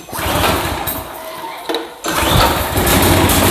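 The engine of an old Craftsman walk-behind trimmer catches and roars to life loudly and close. It sputters and dips once briefly, then settles into a steady, raspy running drone.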